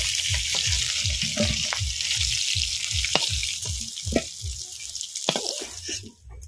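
Fish frying in hot oil in a home kitchen, a steady bright sizzle running throughout with rhythmic low bubbling pulses and a few sharp spatters, close and loud, fading slightly at the very end; no talking.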